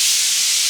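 Pressure cooker whistle venting steam while cooking mutton kabsa: a loud, continuous high hiss, close and unbroken for the whole short burst.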